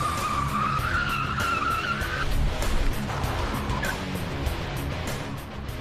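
A car driven hard skids with long tire squeals over a constant roaring engine, loud and close, the screech rising and fading across several seconds.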